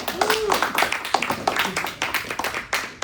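A small group claps for a few seconds, with quick uneven claps mixed with voices talking nearby.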